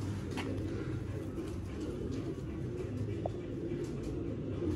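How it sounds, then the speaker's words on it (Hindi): Sialkoti pigeons, a rare breeder class of fancy pigeons, coo steadily at dusk, their low, continuous burbling filling the scene at close range with no talking over it. "बहुत नायाब कैटेगरी के दोस्तों सियालकोटी कबूतर।"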